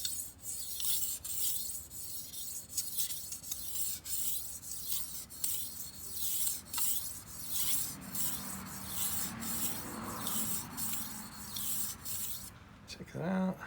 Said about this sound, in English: We're just gonna use this stone to make it a little sharper.